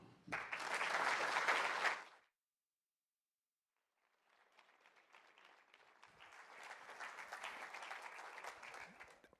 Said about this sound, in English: So please give a very warm applause to Professor Nicholas Bloom.